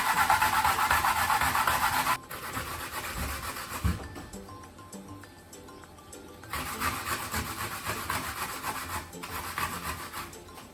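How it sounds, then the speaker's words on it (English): Daikon radish grated on a hand grater in a kitchen, close, rough rasping strokes in a continuous rubbing rhythm, louder at first, then softer, with no talking. "And let's grate it."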